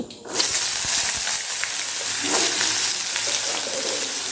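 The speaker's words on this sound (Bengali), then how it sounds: "তখন এর মধ্যে দিয়ে দিতে হবে ছোট ছোট করে কেটে নেওয়া আলু" Small-cut potatoes dropped into hot oil with tempering spices for vegetarian singara filling, a loud dense sizzle that swells right after the start and holds steady throughout.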